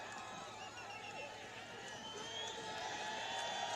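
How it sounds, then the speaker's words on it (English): Distant crowd at a Nepal versus USA one-day cricket match roaring and cheering for a half-century, a steady swelling wash of voices that builds slightly toward the end, heard from afar. "the Nepal crowd erupts on the west boundary"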